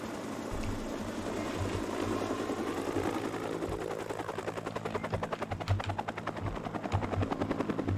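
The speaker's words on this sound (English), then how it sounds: "Please go away, loud helicopter noise." A loud helicopter drones close by, its rotor chopping in a rapid, steady rhythm under a constant engine roar.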